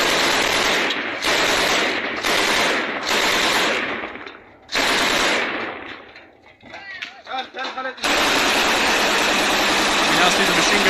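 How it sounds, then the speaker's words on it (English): A PKM machine gun fires several loud rapid bursts in a street combat setting during the war in Ukraine, with short gaps between volleys and a longer sustained burst at the end. "into the street and firing off a PKM machine gun"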